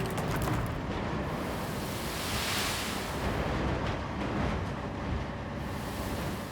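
Sand pouring slowly out of a dump truck in the Roadcraft video game, a steady hissing, rushing wash of granular noise that swells slightly midway and holds at a moderate level throughout.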